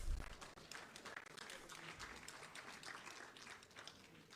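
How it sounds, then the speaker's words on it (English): Audience applause following a speech at a Bawku mediation report presentation, a broad, steady wash of clapping from a crowd that fades slightly over a few seconds. "Another round of applause, please."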